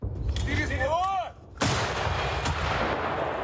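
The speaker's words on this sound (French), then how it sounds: "Les tirs de canon ont à coup sûr réveillé le front." A heavy artillery cannon blast on a war front booms out, followed by a long rolling rumble and echo across open ground, with a few faint whistling tones before it.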